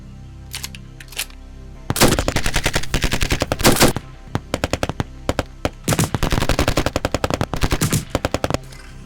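Film gunfire from the 2017 Azerbaijani feature Xüsusi təyinatlı İbad: a few scattered shots, then loud, rapid machine-gun bursts that rattle on in dense volleys with brief gaps, with no talk over them.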